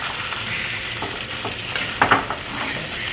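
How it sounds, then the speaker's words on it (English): Rice frying in a hot pan, a steady bright sizzle with soft scraping stir strokes and a couple of sharper clacks of the utensil against the pan, close and alone without talk. "give it a little stir. We're still trying to fry that rice."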